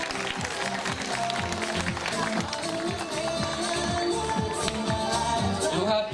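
Applause rises from the audience at a school's ninth-grade farewell ceremony as a finalist is presented, a steady wash of clapping over a rhythmic low pulse that continues throughout.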